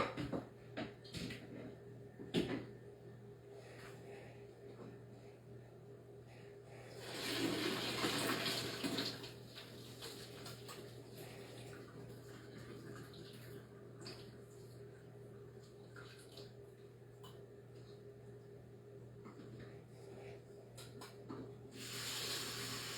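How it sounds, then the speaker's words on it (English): A kitchen sink tap runs as something is rinsed under it, a soft continuous water hiss with a fuller splashing burst partway through and another near the end, heard faintly against a steady low hum. "I'm going to rinse this real quick over here at the sink."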